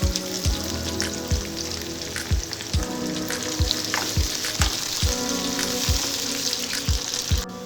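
Onion pieces fry in hot oil with mustard seeds, green and dry chillies and curry leaves for okra tamarind stew, a steady loud sizzle with regular spoon scrapes or taps roughly every half second throughout.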